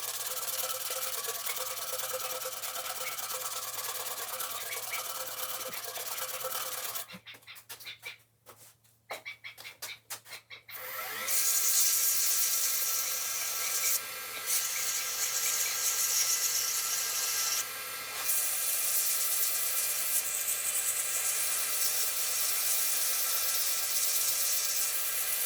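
Sandpaper rubs scratches out of a handmade baseball pen, a steady close hiss of abrasive friction that pauses briefly partway through and then resumes, continuous and even.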